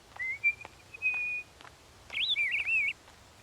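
A person whistles to imitate birds, giving a long steady tone and then a wavering, warbling phrase, clear and close in a quiet setting.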